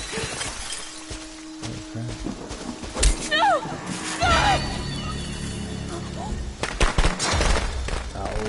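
Fireworks bursting in a Friday the 13th video game: several sharp cracks and crackling pops with whistling streaks, fairly loud over a busy game soundscape, while a person talks.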